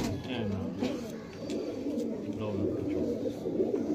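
Pigeons coo at a pigeon fanciers' gathering, low soft murmuring calls repeating steadily throughout amid a busy background, with people talking nearby.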